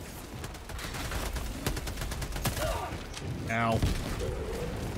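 Explosion from a bomb landing close by in Helldivers 2, heard as a burst of booming, crackling gunfire-like blasts amid a busy game soundscape, with a brief voice cry over it.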